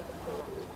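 A Banarasi pigeon courting a female gives a brief, soft coo, faint and close, with a couple of low throaty tones within under a second.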